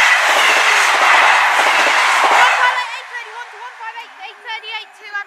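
A Class 158 diesel train bound from Birmingham International to Aberystwyth roars loudly past Westbury level crossing, then fades into rhythmic wheel clatter as it moves off, with someone speaking over the passing.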